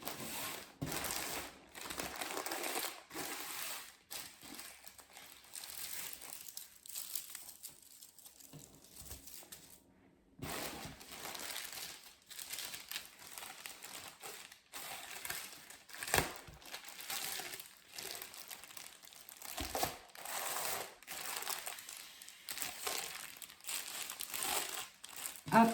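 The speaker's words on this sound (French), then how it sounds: "Tac, je mets ça dedans. Je vais fermer le colis." Packaging crinkles and rustles as a second-hand clothing parcel is closed, with repeated bursts of crumpling and handling noises at close range across the whole stretch.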